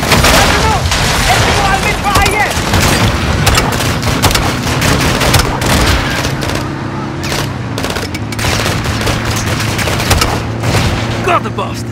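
Light machine gun fire in Call of Duty Modern Warfare 2, dense sustained bursts with booms and loud action mixed throughout, close and continuous, with voices in the background.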